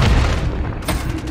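A video game gunshot booms once, loud and close, then fades into a rumbling tail, followed by a second fainter pop.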